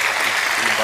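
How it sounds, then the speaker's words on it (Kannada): A crowd at a Kannada spiritual discourse claps together in a dense burst of applause, filling the short moment with steady clapping and a murmur of voices. "ಆ ತಾಯಿಗೆ ಮತ್ತು ಆ ಕುಟುಂಬಕ್ಕೆ ತಮ್ಮದೊಂದು ಹೃದಯ ತುಪ್ಪಿ ಒಂದು ಚಪ್ಪಾಳೆ ತಟ್ಟಿ"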